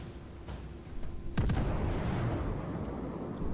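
A heavy battleship gun salvo in World of Warships booms once, sharp and loud, then rumbles and rolls away over a low steady engine drone.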